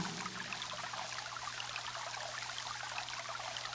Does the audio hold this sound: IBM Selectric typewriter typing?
no